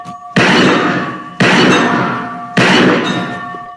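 Firecrackers set off in an old Western town scene, three loud sudden bangs at regular intervals, each followed by a long crackling, rumbling decay, close and dominant with no talk.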